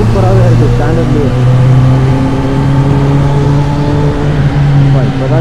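A Kawasaki ZX10R motorcycle's exhaust drones loudly and steadily while riding on a morning road, with a strong low engine hum and wind rush, and a rider talks over it.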